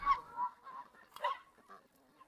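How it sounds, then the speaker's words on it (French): Chickens on a farm give a few short, clucking fowl calls in separate bursts, fairly close and moderately loud, with quiet pauses between them. "Laisse les poules tranquilles."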